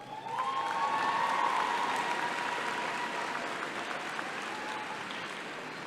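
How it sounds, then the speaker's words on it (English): Commencement audience at a community college graduation breaks into sustained, loud applause with some cheering, rising quickly and holding steady across the hall without speech. "give them a round of applause"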